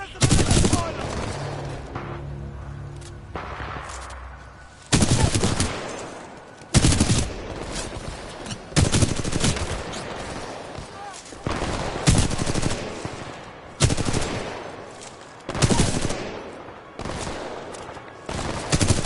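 Militia gunfire in Titanfall 2 comes as loud, repeated bursts of automatic shooting separated by brief pauses, spread across a long battle stretch.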